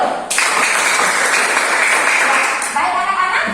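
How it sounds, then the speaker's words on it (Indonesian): A classroom of children claps together in a sustained, loud burst of applause that starts abruptly and fades near the end, with some voices mixed in. "Tepuk tangan dulu."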